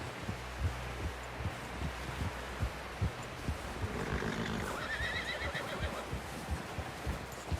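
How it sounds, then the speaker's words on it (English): Horse in the video game Red Dead Redemption 2 giving a neigh midway through, over a steady rhythm of thuds like hooves and low background ambience. "Someone help John down off this horse"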